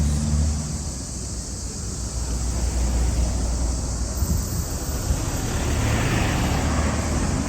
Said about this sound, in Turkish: Nasıl bir yoğun trafik görüyor musunuz?